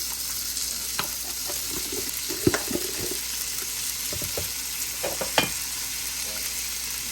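Peppered onions and garlic frying in olive oil in a skillet over high heat, a steady sizzle broken by stirring clacks and scrapes.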